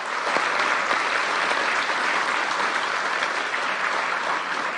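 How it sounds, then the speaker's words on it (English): A large audience applauds steadily at a formal agricultural program signing ceremony, dense continuous clapping holding even and loud throughout without pause or voices. "he deserves a very robust round of applause for all the work that he has done"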